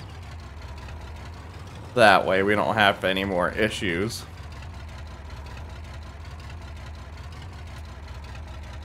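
Tractor engine idles in Farming Simulator 22, a low, steady rumble running throughout while someone talks over it for a couple of seconds near the start.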